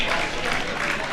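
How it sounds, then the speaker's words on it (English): Spectators at a men's lawn bowls final, the inter-districts open, clapping from the bar side of the green: a brief dense patter of applause from a crowd, fairly close and steady, with no talk. "Interesting to hear the bar side clapping a bit louder for the province shots than the JBA side shots."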